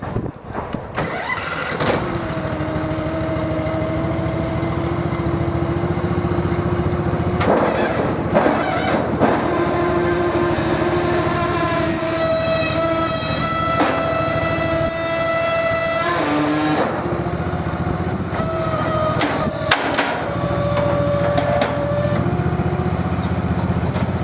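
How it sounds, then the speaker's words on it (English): A 1-inch standing seam roofing panel former runs steadily as it rolls a custom-length metal panel, making a loud continuous mechanical drone with shifting tonal whines and a few clunks, with no voices. "This is our 1-inch standing seam panel former."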